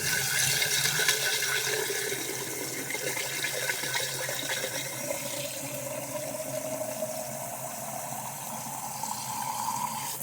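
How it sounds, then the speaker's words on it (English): Water runs and splashes into a container, sloshing and gurgling continuously as it fills, is swirled and poured out, close by with no voices. "fill it full of water, shake it, pour out the water"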